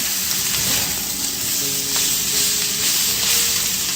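Cod and garden vegetables sizzle loudly in a single pan, a dense continuous frying hiss up close with faint clinks as the pieces are turned.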